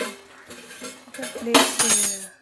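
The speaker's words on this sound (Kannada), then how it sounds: "ಸ್ವಲ್ಪ ಅಚ್ಚ ಖಾರದ ಪುಡಿ 1 ಸ್ಪೂನು ಹಾಕಿ ಮಿಕ್ಸ್ ಮಾಡಿ" A metal spoon stirs chili powder into a tomato dish, clinking and scraping against the pan in short bursts that build to a louder flurry of mixing, close up.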